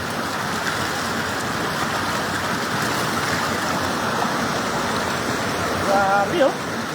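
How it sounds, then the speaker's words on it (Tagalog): Sprite Falls waterfall, a constant rushing wash of falling water, steady and fairly loud, with a few faint voices near the end. "Dito maganda talaga. Yung Sprite Falls."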